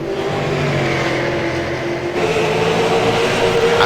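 A race car engine roars steadily and loudly during a race, a continuous droning mechanical noise with a slight shift in pitch partway through, no voices over it.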